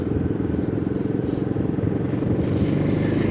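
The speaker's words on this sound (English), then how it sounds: "4th gear, 2000 RPM. Engine slightly struggles, but not by a lot." A 2026 Royal Enfield Himalayan motorcycle engine holding 4th gear at about 2000 RPM, a steady, loud, close low-pitched thrum that labours slightly under load, continuous throughout with no talk.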